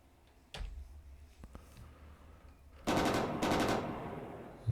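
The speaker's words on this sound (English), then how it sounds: "Now we can fire our central machine gun." Central machine gun of a tank in the video game Armoured Commander II, firing after a brief thud: a loud rapid automatic burst that breaks into two close rattling volleys, with no voices.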